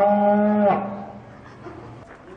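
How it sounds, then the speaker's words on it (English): A six-month-old calf at a county fair lets out one loud, close moo lasting under a second, followed by quieter background fairground noise. "That's a little baby cow"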